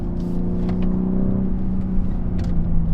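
A BMW M3 Competition G80 on a mountain drive accelerates hard through a gear shift, giving a loud, sustained engine drone heard close from inside the car.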